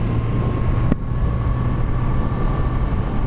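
A Kawasaki Z900RS Cafe motorcycle cruising at speed around 60 mph, with a steady low engine drone and broadband wind roar, plus a brief sharp click near the start.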